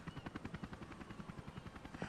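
A helicopter in the video game Resident Evil: Revelations gives off a steady rapid rotor thump, evenly pulsing throughout, fairly faint and unbroken by talk.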